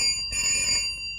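A phone rings in a Tamil Rajinikanth movie scene, a bright sustained electronic bell tone with steady high ringing overtones, close and clear, with a small bump early on and no talking.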